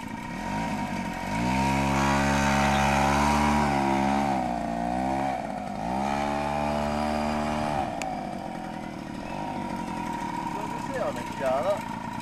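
A Di Blasi folding moped's small engine runs close by, its buzzing tone rising and falling through a few revs before dropping toward idle and cutting out near the end, with a voice speaking briefly over it.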